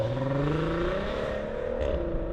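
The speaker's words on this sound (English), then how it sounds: "They gave it an enhanced engine note, so Yeah. it has that characteristic Chewbacca VR6 sound" A 2018 VW Passat GT's VR6 engine revs through its exhaust with enhanced sound, a rising and sustained growl heard up close with no talk.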